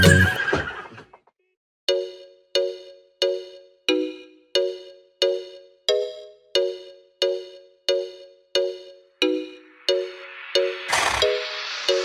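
A horse whinnies and its hooves clip-clop in a Hindi children's rhyme. After a noisy start, a loud, even train of sharp hoofbeats repeats about every half second, then a bright, shrill neigh bursts out near the end.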